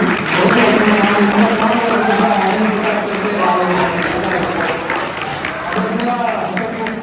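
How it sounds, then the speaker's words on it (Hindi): Audience applause at a medical college stress-management session for an MBBS batch, steady clapping throughout with a crowd murmur and some voices under it. "एक बार जोरदार तालियां डॉक्टर शफी के लिए."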